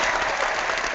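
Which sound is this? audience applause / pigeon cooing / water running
audience applause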